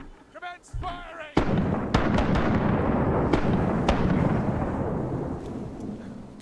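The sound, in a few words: ship cannons firing in a video game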